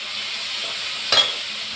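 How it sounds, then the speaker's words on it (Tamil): Vegetables sautéing in a pan with rock salt, tomato and garlic, a steady soft sizzle with one brief stir or scrape partway through. "கல் உப்பு போட்டுக்கிறேன். நல்லா வதக்கட்டும்."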